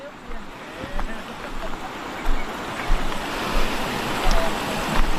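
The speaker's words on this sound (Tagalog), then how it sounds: "Ang lakas na ng tubig, men." The Bakas River's strong rushing water roars steadily, a broad loud wash with surging swells, like a fast river close by.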